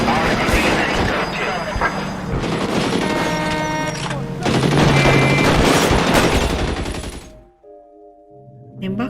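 Rapid bursts of gunfire erupt in the 1940s Los Angeles crime game L.A. Noire, loud overlapping volleys with booming impacts, then a brief lull before more shots, mixed with game effects.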